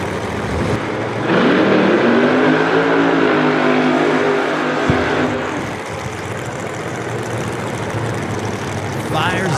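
A funny car engine fires up at a drag strip during Saturday eliminations, producing a loud, sustained roar that holds steady and then fades, with an announcer talking over it.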